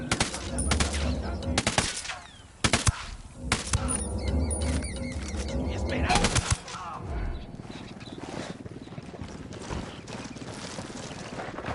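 Rapid bursts of video game gunfire crack loudly in clusters over the first six seconds, then give way to a lower steady rumble and game ambience, with a voice talking over parts of it.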